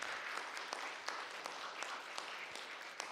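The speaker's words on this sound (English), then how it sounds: "I would like audience to applaud to our guests for their participation in the forum" Audience applause for guests at a creative industries forum on a main stage, steady and fairly faint, with distinct individual claps standing out from a soft continuous patter.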